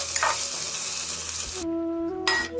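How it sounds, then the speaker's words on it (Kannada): Shallow frying in a pan until light brown for a Kannada ridge gourd curry, a steady close sizzle and hiss with brief stirring scrapes, no talk. "ಲೈಟ್ ಬ್ರೌನ್ ಆಗೋವರೆಗೂ ಚೆನ್ನಾಗಿ ಫ್ರೈ ಮಾಡ್ಕೊಳ್ಳಿ"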